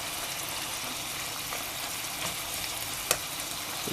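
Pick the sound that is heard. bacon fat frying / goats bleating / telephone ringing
bacon fat frying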